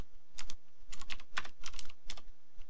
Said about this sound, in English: we type in cd space and dot dot